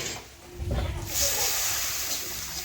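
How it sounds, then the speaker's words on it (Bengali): Water poured into a hot pan of fish curry gives a short low splash, then a steady bright hiss and sizzle that carries on to the end. "এখন আমি পরিমাণ মতো জল দিয়ে দেব।"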